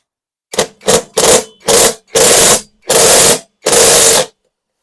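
An impact wrench fitted with an H6 impact socket breaking bolts loose on a Hayabusa motorcycle, rattling in seven loud, rapid bursts of hammering separated by brief pauses, with no talk.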